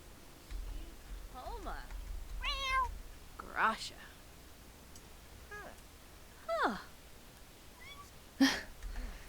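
Cats meowing in The Sims 4 video game, several short, distinct meows spaced a few seconds apart, close and clear over a quiet background with faint soft laughter.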